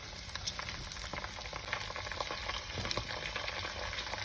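Mixed vegetables sizzle steadily in a wok half filled with hot oil, a dense, even crackle with occasional stirring scrapes and no talking.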